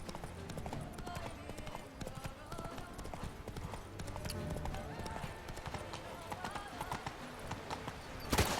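Roach the horse gallops in The Witcher 3: Wild Hunt, a steady rapid clip-clop of hooves running under dense game sound and music throughout, with a louder burst near the end.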